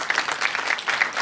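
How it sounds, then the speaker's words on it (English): A conference audience at the APALA Convention 2013 plenary breaks into brief applause, quick overlapping claps at moderate loudness that continue through the short stretch. "Give yourselves a round of applause for that."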